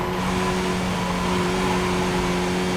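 A Skip Barber race car engine in iRacing at Summit Point Short Track, a loud continuous steady engine drone held under power and close throughout, with no talking.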